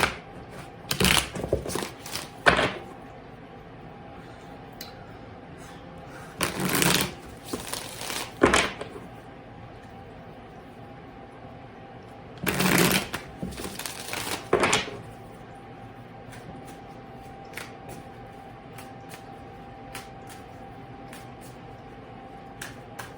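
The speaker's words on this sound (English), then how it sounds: "Remember the sound of shuffle?" Tarot cards being shuffled by hand in a quiet room, in three separate bursts of crisp riffling and flapping with pauses between them, close and moderately loud.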